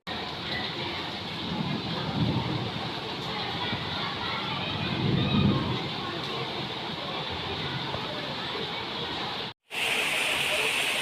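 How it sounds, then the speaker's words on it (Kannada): Heavy, constant rain pours down in Bengaluru in a broad roaring wash, unbroken for several seconds before a brief cut, then resumes. "ಆದರೆ ಇವತ್ತು ಮಳೆ ಬರ್ತಾ ಇದೆ"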